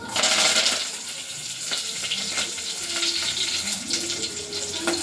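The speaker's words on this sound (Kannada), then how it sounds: "ಸಾಸಿವೆ ಹಾಕ್ತೀನಿ, ಚಟಪಟ ಚಟಪಟ" Mustard seeds crackle and sizzle continuously in hot oil left over from frying bondas during tempering, a dense, close spattering that keeps going throughout.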